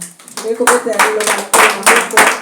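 Congregation at a French-language evangelical church service claps together in acclaim, several bursts of applause with a few louder peaks, heard close and full.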